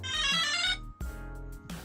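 Electronic phone ringtone melody with bright, layered tones plays loudly, pauses briefly around the midpoint, then resumes with a lower, steadier repeating pattern.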